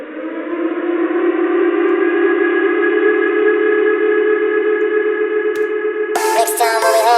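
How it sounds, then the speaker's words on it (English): An air raid siren sound effect wails as a steady, loud sustained tone for about six seconds, then breaks into a burst of chopped, echoing sounds at the end. "Air siren, please."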